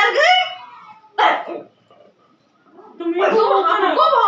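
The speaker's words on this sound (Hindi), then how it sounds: "तुम हमको भौंक रहे हो" A small dog at home gives short, loud bursts of barking and yipping, with a pause in the middle and a longer burst at the end, close to the listener.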